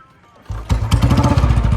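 A Royal Enfield Bullet motorcycle after an accident starts up. A quiet pause gives way to a loud engine catch, then a steady thumping single-cylinder idle close by.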